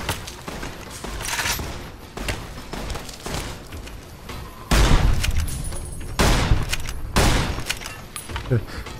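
Gunfire from a cowboy repeater lever-action rifle in the Fallout New Vegas video game, with several loud, close, broadband shot bursts at irregular intervals over continuous game noise.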